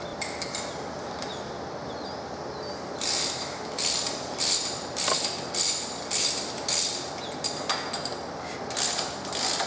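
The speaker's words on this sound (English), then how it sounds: "we're going to remove the clamps. On this particular machine, it's a 13mm bolt holding the clamps on." A ratchet wrench loosening 13mm clamp bolts on a Wacker Neuson jumping jack rammer, giving close, rapid clicking bursts in a steady back-and-forth rhythm of about one stroke per half second, with no talking.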